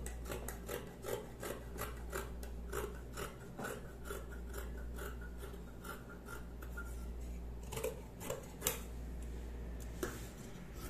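Scissors cut through fabric for a men's sports bikini with a series of close, crisp, rhythmic snipping and rasping strokes, repeated steadily over a low hum.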